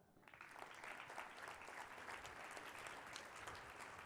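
An audience at a young men's leadership conference bursts into applause, a steady wash of many hands clapping that starts abruptly and holds evenly throughout, heard at a low level.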